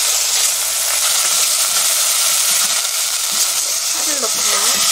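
Sesame oil sizzles and hisses steadily in a pan as abalone porridge is started, a close, continuous frying crackle with a few faint clinks near the end.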